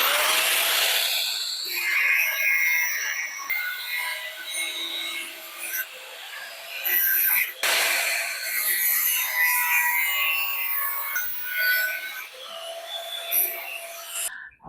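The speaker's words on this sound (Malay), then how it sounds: "saya akan potong besi menggunakan template yang saya buat sebelum ni" An angle grinder cuts iron along a template while making a custom drain cover: a continuous harsh, high-pitched grinding rasp that runs throughout, wavering in intensity with brief pauses, close and loud.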